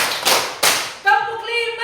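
An audience at a teacher training session in Kupang claps together in a called rhythm pattern, sharp group claps in quick bursts, with a voice calling out the count over them.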